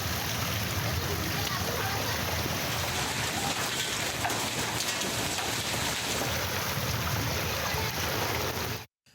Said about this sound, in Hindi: सुबह सवेरे भी मुतादिद शहरों में तेज़ हवाओं के साथ बारिश का सिलसिला जारी है।